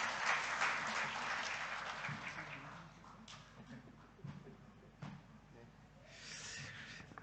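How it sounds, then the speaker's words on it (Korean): Church congregation applauding after a prayer and blessing, a broad wash of clapping that is strongest at the start, thins out and swells again near the end, with scattered voices murmuring underneath. "우리 큰 박수로 축복해 주시면 감사하겠습니다."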